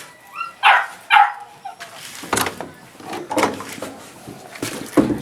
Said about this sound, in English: I think I better let that whining dog out.